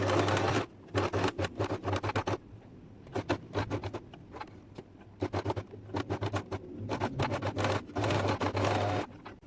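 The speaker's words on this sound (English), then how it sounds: "Okay, let's go to the machine. Begin sewing." A sewing machine stitches fabric for a topstitch on a trouser side pocket, running in several quick bursts with short pauses between them, close and clear with no talking.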